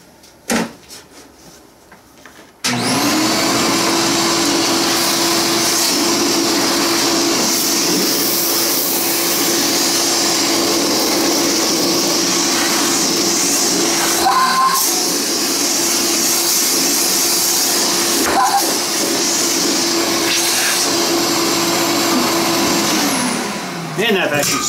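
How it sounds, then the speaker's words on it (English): A Ridgid shop vacuum starts with a sharp click and then runs loud and steady with a constant whine, its tone shifting briefly as debris is sucked up, before shutting off near the end. "So now we got a vacuum. Get the vacuum out here."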